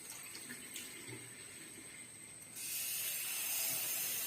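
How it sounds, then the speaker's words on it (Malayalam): Running water splashes steadily into a washbasin, growing louder and more forceful partway through, with no voices. "നമുക്ക് ഇത് വെള്ളം ഒഴിച്ചത് കഴുകാം"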